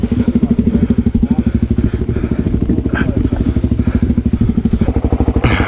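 An adventure motorcycle loaded with about 30 kilos of gear rumbles steadily and close-up while riding, its engine pulsing throughout with occasional knocks and clatter over the top.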